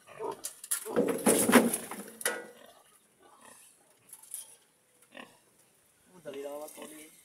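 Close, loud grunting from a pig in a dense burst early on, then sparser snorts and oinks spaced out amid quiet, with voices chatting nearby.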